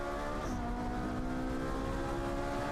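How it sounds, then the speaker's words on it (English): A mid-engine Ferrari 458 race car downshifts through its sequential gearbox at the Valencia circuit in a Trofeo Pirelli race. The engine drone is steady and fairly distant, its pitch falling once near the start, with no voices. "down through the sequential gearbox, these mid-engine 458s"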